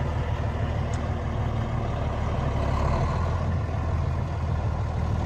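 A 2001 Freightliner Century 112 pre-emissions truck with a Cummins diesel and 10-speed Eaton manual transmission rumbles steadily up close, its low engine drone continuous throughout with no talk.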